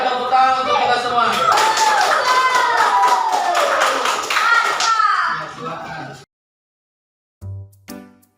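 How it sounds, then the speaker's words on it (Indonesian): A primary school class claps hands together, a fast dense patter of many small hands mixed with children's voices for about six seconds, then silence before a brief closing sound. "tepuk tangan untuk kita semua"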